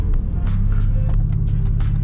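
Straight-piped Nissan 350Z engine droning steadily while driving, a loud continuous low rumble with no speech over it.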